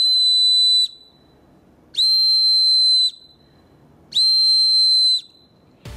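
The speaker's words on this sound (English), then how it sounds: "This is where safety whistle comes in." Three loud, shrill safety whistle blasts, each about a second long, sounding at a steady pace with short silent gaps between them.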